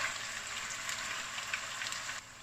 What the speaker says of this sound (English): you can see it frying away